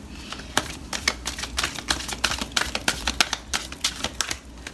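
Rapid, irregular flicking and riffling of oracle cards being shuffled by hand, crisp close-up clicks in quick bursts with a low background hum.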